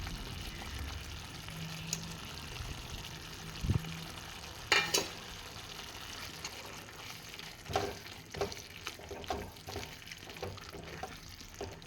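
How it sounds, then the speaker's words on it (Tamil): Ginger garlic paste sizzles as it is sautéed in hot oil for a prawn gravy, a steady close frying hiss broken by occasional scrapes and clicks of stirring. "இஞ்சி பூண்டு பேஸ்ட்டு சேர்த்து நல்லா வதக்கி விடணும்"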